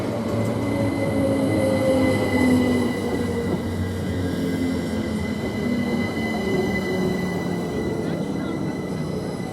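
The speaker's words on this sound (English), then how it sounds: "Now the 1527 from Kingston to London King's Cross, Great Northern, this is now departing." A Great Northern passenger train, a Class 387 unit running from Kingston to London King's Cross, pulls out of Waterbeach station, with a steady loud rumble, rising motor whine and wheel squeal close by throughout.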